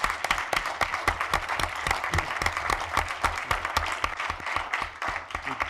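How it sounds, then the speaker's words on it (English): A mayoral forum audience applauds the candidates with sharp, distinct individual claps in a medium-sized room, steady and fairly close throughout. "let's have a big round of applause for all of our candidates"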